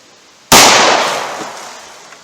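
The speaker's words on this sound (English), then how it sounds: "So let's see how that 38 Special Plus P compares. Alright, 38 Special Plus P Buffalo Bore." A single .38 Special +P Buffalo Bore round fired outdoors, one sharp loud crack followed by a long decaying echo.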